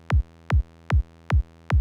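Five punchy kick drum hits from a sample, played alone in a steady even pulse about every 0.4 seconds, each a sharp attack with a deep booming low tail over a faint sustained hum.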